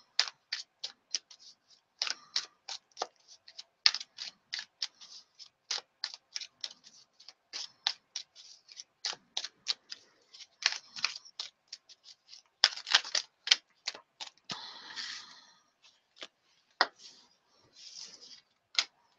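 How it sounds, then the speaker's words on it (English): A deck of cards is shuffled during a live card reading, with rapid crisp riffling clicks and snaps in irregular bursts, close but soft, without talk. "when I'm shuffling for people and 5 cards fall out of the deck"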